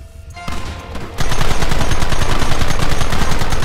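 Dense, continuous gunfire in a Red Dead Redemption shootout, a few sparse shots at first and then a loud, rapid barrage of overlapping rifle and pistol reports filling the rest, with no talk.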